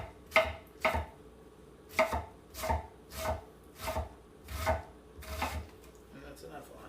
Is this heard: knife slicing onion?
yes